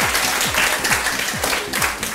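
Steady, loud applause fills a lecture hall during a memory management seminar, many hands clapping in a continuous wash that holds throughout without speech.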